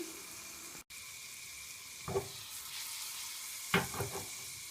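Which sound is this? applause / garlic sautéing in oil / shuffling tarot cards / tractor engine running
garlic sautéing in oil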